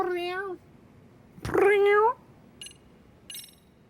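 A cat in the video game Lost Judgment meows twice, two clear, close, drawn-out calls. A voice in the background speaks faintly between them.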